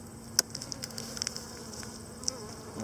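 Honey bees drone softly at an open hive on a calm morning, a faint steady buzz with a few sharper clicks and taps over low background hum.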